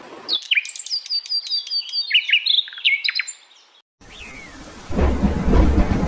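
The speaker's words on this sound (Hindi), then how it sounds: "जंगल में अभी बारिश हो रही है।" Birds chirp and tweet in a busy run of calls, then steady heavy rain pours in a jungle with a deep rumbling underneath.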